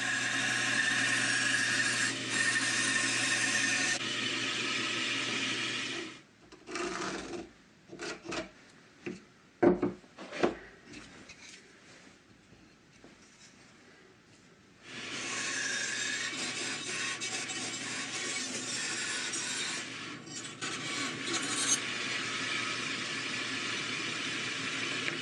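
A bandsaw or scroll saw with its table tilted 1.8 degrees cuts a plywood circle, giving a steady, loud rasping whine that stops midway for a stretch of quiet handling clatter, then resumes and runs on evenly.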